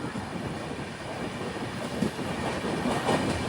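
Agartala to Bengaluru Humsafar Express rolling into Samalkot Junction, a steady, loud rumble of wheels and carriages with faint rhythmic clatter throughout, no voices.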